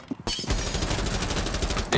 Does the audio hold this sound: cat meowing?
no